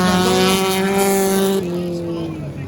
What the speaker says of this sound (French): la voiture numéro 3 et la 27 qui s'approchent d'une voiture plus lente